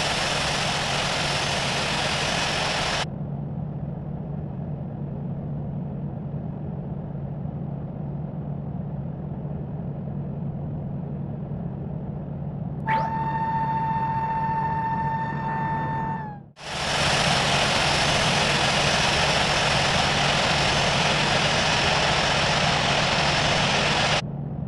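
A simulated airliner's engines drone at a steady idle as it taxis to runway 16 in the flight game Infinite Flight, the hum briefly interrupted by a tonal chime and a short gap.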